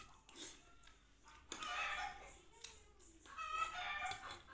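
A rooster crows repeatedly at a distance, with several drawn-out calls and some clucking between them.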